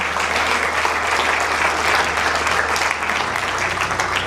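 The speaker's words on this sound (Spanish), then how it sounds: "Aplaude usted una vez más al Señor" A church congregation applauds steadily, a dense, continuous clapping that fills the space from start to finish with no talk over it.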